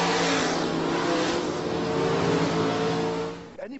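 A race car roars past loudly at a drag strip, its engine note sustained and close, then dropping away sharply as it fades near the end.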